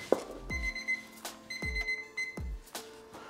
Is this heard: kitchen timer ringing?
yes